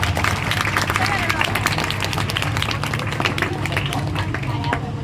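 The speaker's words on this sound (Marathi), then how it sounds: "तुमच्या या सर्व गुरुजनांसाठी एकदा सर्वांनी जोरदार टाळ्या वाजवा" An audience at a school farewell ceremony for 10th and 12th standard students applauds its teachers, dense steady clapping and crowd noise filling the whole stretch at an even loudness.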